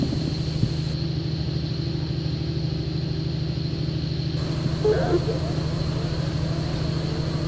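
A KiHa 40 series diesel railcar runs at a steady pace on a local line, its engine drone and rolling rumble continuous and moderately loud, with brief faint voices in the background.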